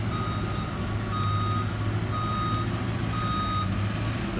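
A crane's reversing alarm beeps in a steady, repeating rhythm over low engine rumble, moderately distant, with no talking.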